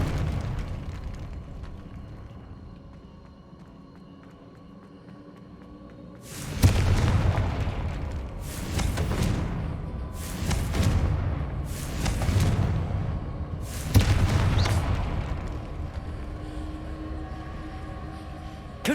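Confringo blasting-spell explosions in the wizarding game Hogwarts Legacy: four loud booming blasts in fairly quick succession after a quiet, low ambient hum, each with a rumbling tail.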